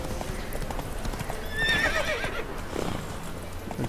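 A horse runs fast in a video game, with continuous clip-clop hoofbeats and a brief neigh partway through, close and steady beneath other game sounds.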